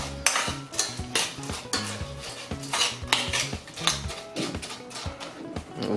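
Clinking of a utensil against a bowl or pot as hibiscus flowers are stirred into cold water, with quick repeated taps and scrapes in an uneven rhythm.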